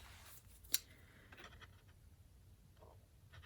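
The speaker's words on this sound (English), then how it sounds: "So I am going to cut mine right there." Scissors snip paper to trim out an embossed wax-paper card panel, one sharp close cut standing out above faint handling rustle in an otherwise quiet room.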